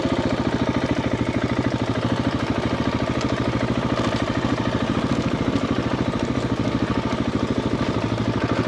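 A motorcycle on Bolivia's Death Road idles steadily in a close, loud, even putter that continues without a break, with no voices.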